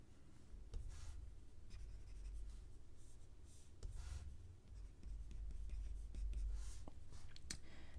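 A pen writes out a maths answer on paper, with soft continuous scratching and short strokes in close, quiet detail against a low background hum.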